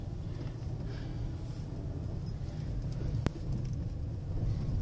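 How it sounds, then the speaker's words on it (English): A car on all-season tires rolls down a street, heard from inside as a steady, low engine and road rumble with one sharp click partway through. "I'm going to just drive down this street a little bit"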